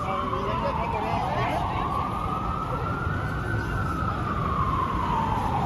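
A loud emergency vehicle siren wails continuously in Times Square, Manhattan, its pitch slowly rising and falling, close by over a busy street's rumble.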